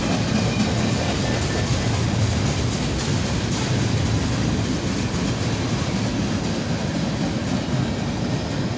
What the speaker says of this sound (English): Even a random 5-pack of empty intermodal well cars mixed in on this manifest train.